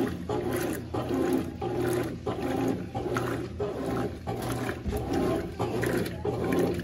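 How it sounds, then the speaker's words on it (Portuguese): A Consul 12kg top-loading washing machine agitates while water drains, a loud steady churning with rhythmic surges about once a second and a watery rumble throughout, close by with no talk. "enquanto a água vai saindo, ela vai agitando aí"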